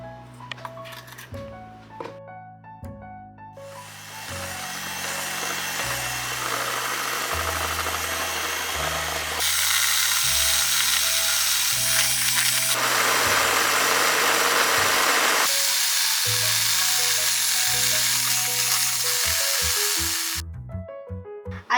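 An electric mixer whips cream with sugar, its motor whirring steadily and shifting pitch and speed several times before stopping, loud and close, with no talking.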